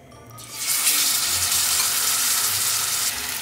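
Fish pieces for Cha Ca La Vong drop into hot oil, setting off a loud, steady crackling sizzle that swells quickly and holds close up.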